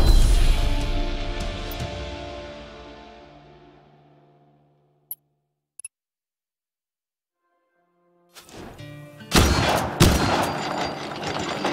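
Video game gunfire from Just Cause 3: a loud blast opens and its echo decays away, two brief sharp cracks punctuate near-silence, then a fresh burst of rapid shots erupts toward the end.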